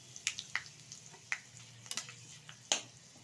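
Mustard seeds, fenugreek and asafoetida crackling in hot oil for sambar dal, with sharp isolated pops and spits at irregular intervals over a faint low sizzle, close and clear, no voices.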